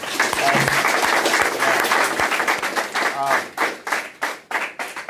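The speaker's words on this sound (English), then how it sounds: "Give them a round of applause for being here" Audience applause at the 26th Battle of Tampa Bay press conference, a loud burst of many hands clapping that fades into scattered claps, with voices mixed in underneath.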